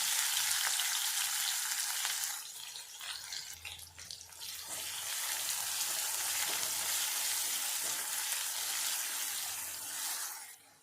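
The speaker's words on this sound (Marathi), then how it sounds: "हा कांदा इथे आपल्याला सोनेरी कलर येपर्यंत इथे आपण छानपैकी फ्राय करून घेणार आहे" Chopped onion frying in hot oil in a pan until golden, for a Maharashtrian cowpea pod vegetable dish; a loud, continuous close sizzle with occasional stirring scrapes and no talking.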